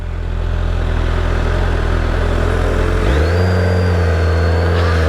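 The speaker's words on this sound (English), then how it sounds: "check out this quick shifter. Like, that is just so much fun." A Gen 3 Suzuki Hayabusa 25th Anniversary Edition revs hard under acceleration, with a loud, close engine note that climbs, then drops sharply as the quick shifter snaps through a gear change and the pull continues.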